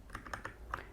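Keys clacking on a computer keyboard while typing HTML code, a quick, close run of about five crisp keystrokes with nothing else around them.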